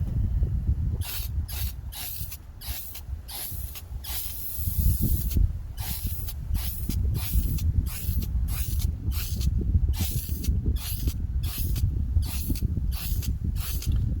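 Short bursts of an aerosol spray can clearing a clogged metallic tip during auto body repair, repeated hissing pulses in a steady rhythm over a low background rumble, close and fairly loud.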